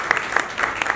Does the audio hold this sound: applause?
yes